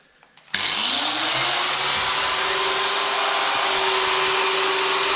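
A power drill bores into a shower enclosure profile, starting abruptly into a loud steady high whine that holds unbroken for several seconds, close up with no talking.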